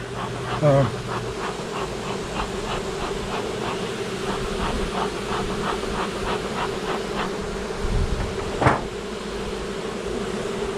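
Honey bees swarm and buzz around an open beehive during honey frame pulling, a dense steady drone close by that lasts throughout, with a couple of brief knocks and a voice faintly in the mix.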